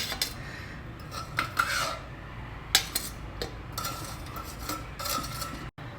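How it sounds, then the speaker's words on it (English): Sweet Vella seedai are lifted out of an air fryer, giving soft metallic scrapes and light clinks of a utensil against the basket in several brief, quiet bursts. "Now we'll carefully take it out from the air fryer"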